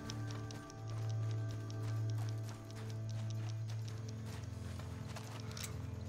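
A horse in a Western-style video game clip-clops along a road in a steady, even rhythm, its hooves faint and distant beneath a low ambient game soundtrack.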